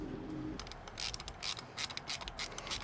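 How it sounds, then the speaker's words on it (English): A Klein ratcheting screwdriver tightens a ground screw on a floodlight install, giving a close series of sharp ratchet clicks in short uneven bursts. "this Klein ratcheting screwdriver is a bomb"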